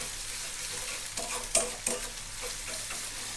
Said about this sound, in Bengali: এখন হচ্ছে এই উপকরণগুলোকে আরেকটু ভেজে নিব